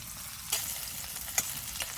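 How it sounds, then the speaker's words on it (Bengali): Dried chillies, chopped onion and garlic frying in a little hot oil in a wok, a soft steady sizzle broken by a few brief stirring scrapes, close and quiet without talk. "এবার শুকনো লঙ্কা, পেঁয়াজ কুচি আর রসুনগুলি ভালো মতন ভেজে নেব।"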